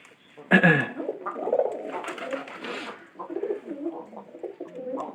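Pigeons coo in a low, throaty rumble, starting with a louder flutter-like burst near the start, then repeated soft coos continuing close by.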